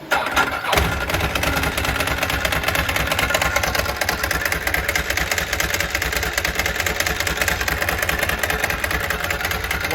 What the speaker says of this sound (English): Flip it around, you get to hear a cold start.